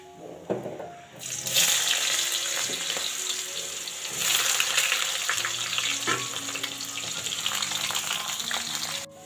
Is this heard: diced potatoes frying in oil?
yes